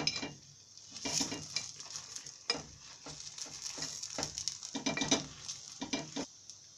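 Kuzhi paniyaram made from idli batter sizzle softly in the pan as they are flipped, with scattered metal clicks and scrapes of a utensil against the pan between quiet frying.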